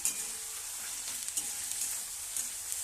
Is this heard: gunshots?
no